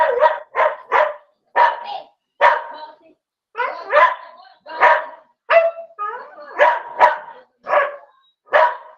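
A dog barks repeatedly in close, loud, irregular volleys of short sharp woofs, some clustered in quick doubles and triples, with brief pauses between.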